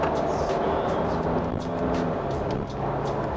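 A Volkswagen Tiguan with a dual-clutch gearbox accelerates from inside the cabin, its engine droning steadily and loudly while quick upshifts put brief dips into the drone.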